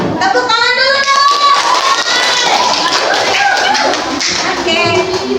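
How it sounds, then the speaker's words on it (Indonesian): A classroom of children clapping together in sustained applause, loud and close, mixed with children's voices and a teacher talking. "Tepuk tangan dulu dong."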